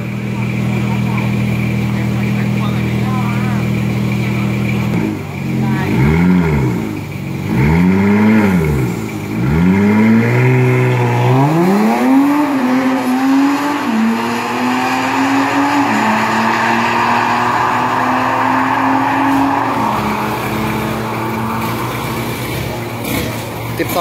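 Honda Civic EK Type R launching down a 402 m drag strip, its engine revving hard in rising, stepping bursts through the gears, loud and close, with steady crowd or announcer noise underneath.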